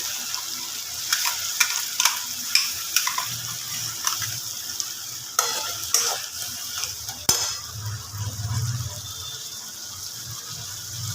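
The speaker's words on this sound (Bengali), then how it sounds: "পুরো পেস্টটাই আমি এর মধ্যে দিয়ে দিলাম এবার ভালো করে কষে নেব" Chicken with ground spice paste and onions sizzles in a pan while a spatula scrapes and knocks against the metal in repeated sharp strokes over a continuous frying hiss.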